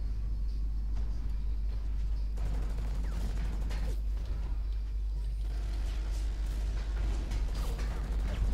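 Gunfire in the mech shooter game Hawken rattles in rapid bursts over a steady low engine rumble, with repeated sharp reports and mechanical whirs at moderate loudness.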